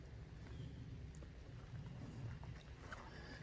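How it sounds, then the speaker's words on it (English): Steady rain falls outside, a soft continuous hiss with a low rumbling undertone and a few faint scattered patters, no voices. "We got rain out here today."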